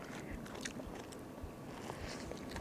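Close, soft crunchy bites and steady chewing on the fluffy, fibrous flesh of a home-grown edible giant luffa, continuous and fairly quiet with no talking.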